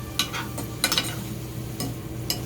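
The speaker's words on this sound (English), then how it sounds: "And now I am going to stir it." Broccoli and peppers coated in olive oil being stirred, with a few quick scraping and rustling strokes close by over a faint steady hum.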